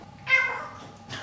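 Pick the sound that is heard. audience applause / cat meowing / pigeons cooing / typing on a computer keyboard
cat meowing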